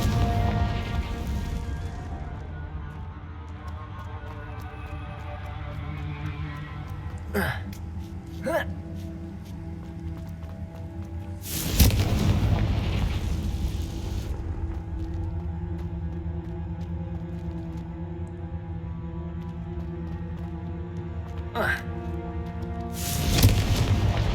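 A Confringo fire curse from the Hogwarts Legacy video game bursts into two loud, sharp booms some seconds apart, over sustained orchestral game music and quieter spell effects.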